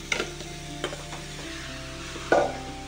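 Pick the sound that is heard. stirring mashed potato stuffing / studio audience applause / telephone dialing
stirring mashed potato stuffing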